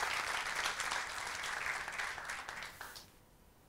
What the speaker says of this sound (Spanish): Recibamos con un fuerte aplauso a Eduardo Acuña